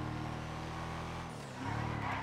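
A truck drives along a road in the GTA 5 video game, a steady engine drone with a brief dip in pitch and a tire scuff, moderately loud and close.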